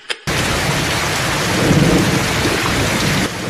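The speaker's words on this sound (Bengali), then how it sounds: "কি সুন্দর বৃষ্টি হচ্ছে।" Rain in a cartoon scene, a dense continuous downpour with a low thunder-like rumble swelling midway, loud and steady after a brief opening blip, no voices.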